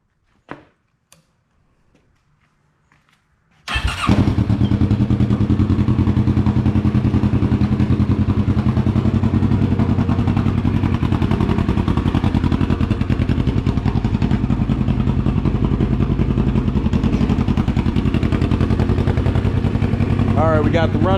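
A cheap cafe/streetfighter motorcycle with a new loud exhaust fires up after a few faint clicks, then settles into a loud, raspy, throbbing idle that rumbles on steadily close to the microphone.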